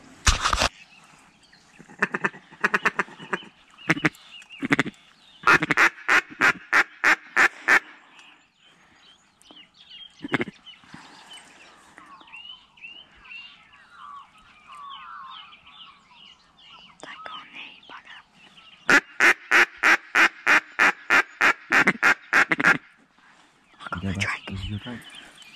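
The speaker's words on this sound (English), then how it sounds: "Ducks are coming in left, right, centre." Ducks flying in during a New Zealand duck shoot on closing day, with bursts of rapid, repeated quacking calls breaking out between stretches of quieter talk and soft outdoor noise.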